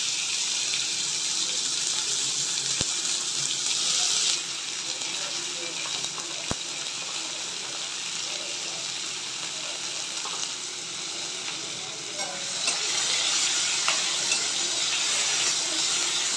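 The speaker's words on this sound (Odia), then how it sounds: "ମୋ ତେଲ ଅଲରେଡ଼ି ହେଲାଣି ତ ମୁଁ ପିଆଜ ଦେଇଦେଉଛି" Onion pieces dropped into hot oil already seasoned with sugar, cumin and a dried red chilli, giving a steady close sizzle and hiss with a couple of sharp clicks, the frying briefly quieter in the middle.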